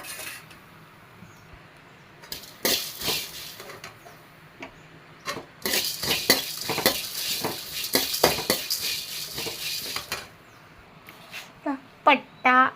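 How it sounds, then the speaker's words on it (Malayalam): Dry chillies and coriander rattle and scrape in a metal pan as they're dry-roasted without oil, with clinks of a spoon against the rim in bursts, close by. "ലേശം മുളക്, മല്ലി നമുക്ക് ചീനിച്ചട്ടിയിൽ ഇട്ട് കൊടുത്തിട്ട് ഒന്ന് വറക്കാം."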